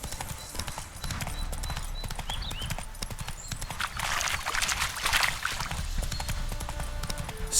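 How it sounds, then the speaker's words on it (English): Roach the horse's hooves clip-clop in a steady trotting rhythm in The Witcher 3 video game, close and clear over a light ambient backdrop. "Spooking my horse. Roach doesn't like ghosts."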